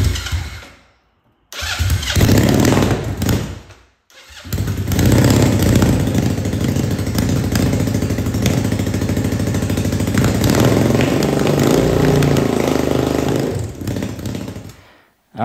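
A motorcycle engine swapped into a drift lawn mower fires up and revs hard, loud and sustained, dropping out briefly before catching again and running steadily with throttle blips until it cuts off at the end.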